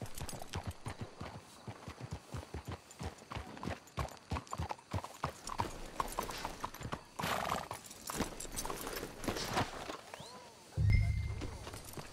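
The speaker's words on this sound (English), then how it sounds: "Let's hitch your horses up ahead." Horses walk in Red Dead Redemption 2, hooves clip-clopping in a steady rhythm on the ground, then snorting and a whinny, with someone speaking softly over the hoofbeats.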